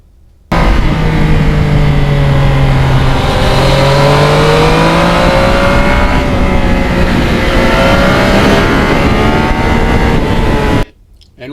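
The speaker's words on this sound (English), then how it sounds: "You can hear in the background there are a lot of sport bikes out today." Loud sport motorcycle engines roar past continuously, pitch rising and falling as the bikes accelerate and shift gears, with a steady droning tone underneath.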